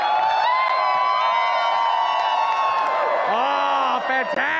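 A large arena crowd at the Dota 2 The International 2022 grand finals keeps up loud, continuous cheering and whooping throughout, with a voice rising over the din near the end.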